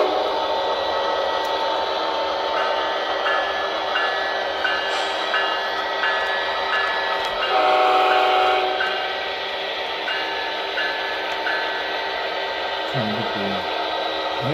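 An AC6000 BLI model locomotive with a Tsunami 2 sound decoder and a scale speaker gives off a steady synthesized diesel engine drone with whining tones, heard continuously from close by.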